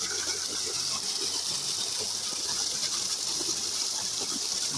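Water gushes steadily from the 4-inch delivery pipe of a solar-powered tubewell driven by a 20 HP submersible motor, a loud, continuous broadband rushing with no pauses.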